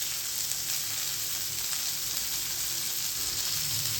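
Cabbage and chili sambharo tempering with mustard seeds, a constant bright sizzle of spices in hot oil holding evenly loud and close throughout without pauses.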